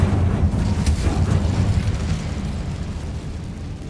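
An Incendio fire spell cast in Hogwarts Legacy bursts out as a loud, steady roaring whoosh of flame with a deep rumbling low end, holding on for several seconds and fading only slightly, with no voices over it.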